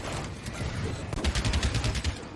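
Gunfire from a competitive tactical shooter esports match, a dense burst of rapid shots against busy game ambience with sharp repeated cracks in the second half, loud and close.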